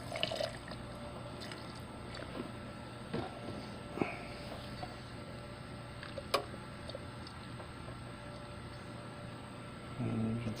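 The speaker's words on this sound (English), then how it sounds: "I'll wash the beaker off with distilled water." Distilled water splashes and trickles as a beaker is rinsed during gold refining of karat scrap, soft irregular drips and sloshes over a steady background hum, with a brief louder splash near the end.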